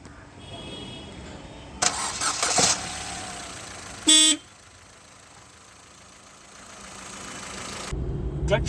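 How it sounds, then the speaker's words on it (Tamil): A used Ford Figo car with a manual clutch is cranked and starts, with bursts of engine noise and a sharp loud blip, then settles into a steady, fairly quiet idle. "ஸோ இந்த வண்டி இப்போ ஸ்டார்ட் பண்ணி பார்க்கலாம்."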